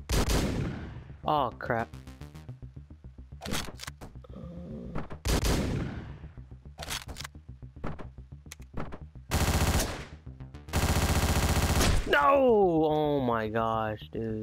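Assault rifles and shotguns blaze through a Hotline Miami boss fight, with loud broadband bursts of rapid automatic fire punctuated by sharp single blasts, while a man reacts aloud over the shooting.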